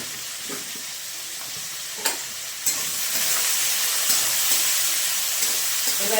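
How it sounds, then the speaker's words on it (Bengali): Potatoes with salt and turmeric frying in a pan over medium heat, giving a steady close sizzle and hiss with a couple of sharp clinks of stirring. "এবার আলুটাকে ভাজা ভাজা হতে দেব মিডিয়াম আঁচে।"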